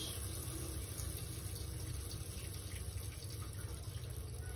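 Water pours steadily into a tarantula's water dish, a continuous splashing stream with a low background hum and no pauses.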